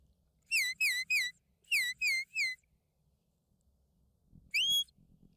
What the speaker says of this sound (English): So that was a fast walk-up whistle.